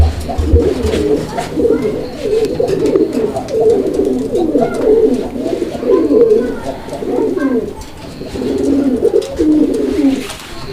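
A Raj-golla pigeon coos vigorously and close up in rapid, repeated throaty rolls that carry on almost without pause, with only a short dip before resuming.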